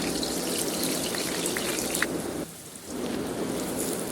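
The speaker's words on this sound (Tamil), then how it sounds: "இப்போ நம்ம கட் பண்ணி வச்சுருக்க எக் பிளான்ட்டை இதில் ஷாலோ ஃப்ரை பண்ணிக்கலாம்" Cut eggplant shallow frying in oil crackles with a dense, steady sizzle much like rain, dipping briefly midway before resuming at an even level.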